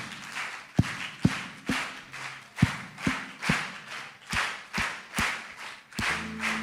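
A congregation claps along to a worship song beat in repeated sharp, evenly spaced claps that follow a grouped rhythm, with a soft musical background and no talk over them.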